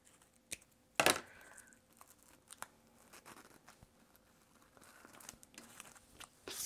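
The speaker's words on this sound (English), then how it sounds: "I need to cut off that tape, those ends of the tape." Scissors snipping tape ends off tags for a small paper craft album, heard as sparse close crinkles and small snips with one sharp louder burst early on, against a quiet room.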